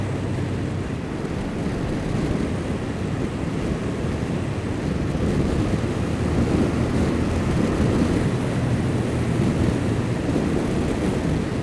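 Constant heavy wind buffets the microphone while riding a 2012 Suzuki SFV650 Gladius motorcycle, a dense low roar that never lets up, with a steady engine-like drone beneath it.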